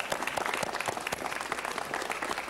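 A round of applause at a city council meeting, a moderately faint, steady patter of clapping from the audience throughout.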